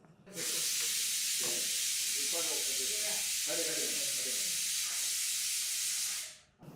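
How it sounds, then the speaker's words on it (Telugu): Pressure cooker cooking a small batch of rice releases steam in a strong, steady hiss lasting several seconds, with a muffled rattling pulse underneath, then cuts off abruptly. "2 విజిల్స్ చాలేమో"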